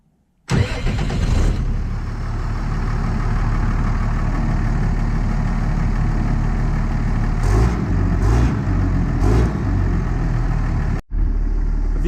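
A tractor-driven farm plastic machine starts up with a sudden burst and then runs at a steady, loud mechanical drone. A few brief knocks come near the end before it cuts out abruptly and restarts.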